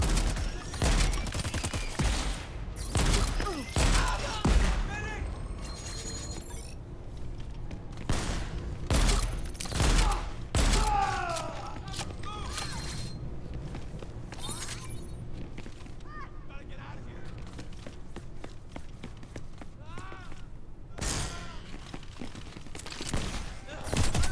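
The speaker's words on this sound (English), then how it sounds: "Shotguns cut through trouble up close and personal." Gunfire in the video game Crackdown 3, with loud, sharp, repeated blasts scattered through a busy mix of explosions, impacts and game music, coming in bursts with short quieter gaps between them.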